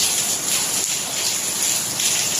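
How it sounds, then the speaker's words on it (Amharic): Heavy rain in Dubai falls as a steady, dense hiss of drops on surfaces, continuous and fairly loud with no voices. "ዝናብ እንዳለ ሞልቷል ማለት ነው።"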